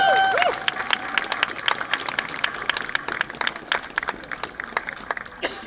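Audience at a trumpeters' competition in Pelhřimov claps in scattered, uneven bursts, with crowd murmur and a brief melodic tone at the start, moderately loud throughout.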